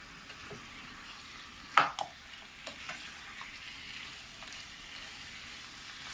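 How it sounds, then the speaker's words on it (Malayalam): Chicken with turmeric stirred in a pan over a high flame gives a faint, quiet sizzle, broken by a few soft spatula scrapes and taps. "ഫ്ലെയിം ഒന്ന് കൂട്ടി വെച്ചിട്ടാട്ടോ ഞാൻ ഇപ്പോൾ ഇളക്കി കൊടുക്കുന്നത്."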